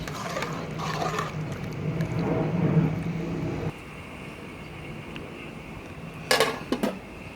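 Ginataang halo-halo being stirred in a pot: utensil scraping and clinking against metal with a bubbling, liquid churn, fairly close, followed by a softer stretch and a brief bright clatter near the end.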